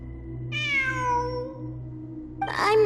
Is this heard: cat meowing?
yes